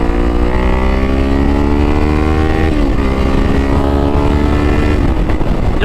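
A Kawasaki Ninja 500 engine drones loud and steady while riding in third gear at about 40 mph. The tone dips briefly at two points as the bike pulls on, with wind rushing underneath.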